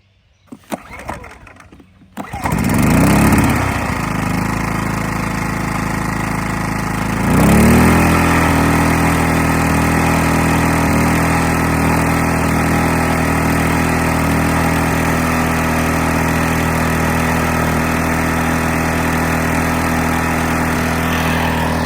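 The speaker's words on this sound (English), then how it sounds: "Let's get the generator fired up." A portable generator at a solo van campsite is pulled over and catches, sputtering briefly before settling into a loud, steady engine drone that runs on without a break.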